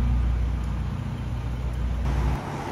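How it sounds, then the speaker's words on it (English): A purple Ferrari SF90 hypercar pulls up on a London street, its steady low engine drone blending with surrounding traffic noise and easing off toward the end. "we've got the purple SF90 pulling up now to the Carnot"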